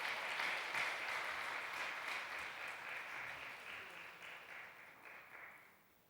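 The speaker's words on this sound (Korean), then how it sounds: "우리 박수로 격려하겠습니다." A church congregation at a Sunday service claps in steady, moderately distant applause that holds for several seconds and then gradually fades.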